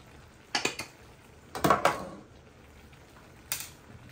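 Pasta is stirred in a cooking pot, giving three short, quiet bursts of clanking and scraping of utensil against metal separated by near-silence.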